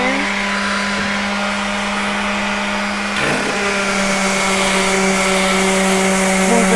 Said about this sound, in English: I'm trying to sand.